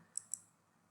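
Two quick, faint clicks from a computer mouse pressing the join button in Google Meet, sounding close and isolated in a quiet room.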